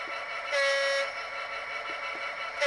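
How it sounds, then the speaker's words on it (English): A locomotive sounds its single-tone horn, one steady muted blast of about half a second, loud and close, against a background of rail and engine noise. "That's the single horn."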